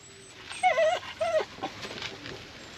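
A small, stocky sausage dog and bulldog cross whimpers close by in a few thin, rising whines, then quieter yips trail off.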